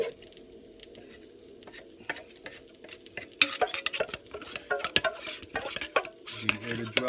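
A spoon scrapes thick beer-kit malt extract from a container, with irregular sticky scrapes, clinks and squishy stirring that grow busier and louder toward the end, close by, with no talking.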